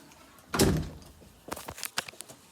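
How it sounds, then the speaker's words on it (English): A door swings and shuts with one solid, fairly close thunk, followed by a few lighter knocks and taps as it settles. "Oh, my door."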